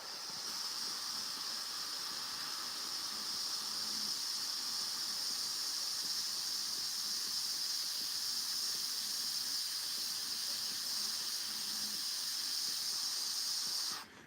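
Airbrush sprays paint onto a Warhammer miniature in a steady, continuous close hiss that runs unbroken for the whole stretch, then cuts off right at the end.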